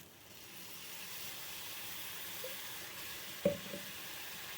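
A stir-fry sizzles in hot oil in a pan after soy sauce is poured in, a steady, faint hiss with a couple of small clinks near the end.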